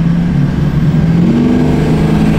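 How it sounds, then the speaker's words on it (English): A compound Cummins diesel truck engine with a boost leak runs loud and close, a steady low droning roar with a slight rising pitch as it revs, no talk over it. "You got a boost leak, brother."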